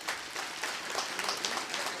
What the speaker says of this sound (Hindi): ताली बजा के स्वागत करें।